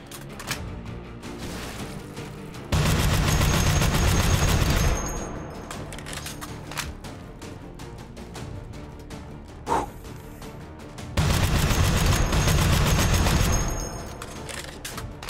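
Gunfire in the VR shooter Hot Dogs, Horseshoes & Hand Grenades comes in two loud, sustained bursts of rapid automatic fire, separated by quieter stretches with scattered single shots.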